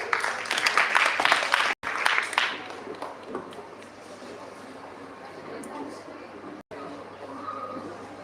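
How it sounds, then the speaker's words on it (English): Audience applause at a college event welcoming team number 4 to the stage, a dense burst of clapping for about three seconds that quickly fades into low room murmur and background noise. "Give it a big round of applause"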